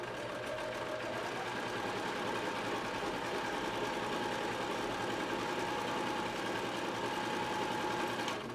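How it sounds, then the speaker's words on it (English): A sewing machine stitches through soft cotton and felt mask fabric, running in a steady, continuous mechanical whir with rapid needle clatter, close and uninterrupted. "real-time sewing."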